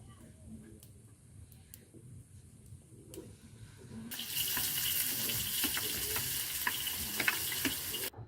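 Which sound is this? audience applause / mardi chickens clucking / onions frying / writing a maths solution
onions frying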